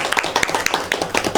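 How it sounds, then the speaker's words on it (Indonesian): A classroom of students claps for a classmate, a brief burst of scattered hand claps up close, uneven and lively, with no talking over it. "Beri tepuk tangan untuk Yelsa."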